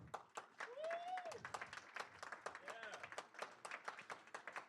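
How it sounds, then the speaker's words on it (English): Scattered clapping from a small group, fairly close, with a voice and a whoop or two rising over the applause. "clap it up for the sponsors"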